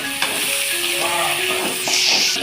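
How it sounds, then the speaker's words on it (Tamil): Tomatoes added to ginger and garlic fry in a pan for a tomato chutney, giving a steady close sizzle and hiss with faint stirring, a voice speaking briefly over it. "கூட தக்காளி போட்டு நல்லா வதக்கிறோம்."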